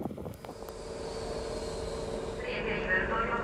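A train rumbles past at close range in Vilnius, Lithuania, a steady broad roar with rising high-pitched wheel and rail squeal toward the end.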